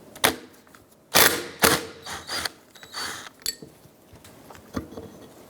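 A 19mm socket wrench loosens the nut on the power steering pump pulley of a 2005-2009 Subaru Outback, giving several sharp close metallic clicks and ratcheting bursts with short pauses between them.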